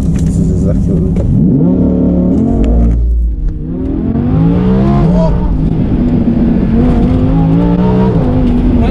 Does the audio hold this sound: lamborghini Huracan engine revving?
yes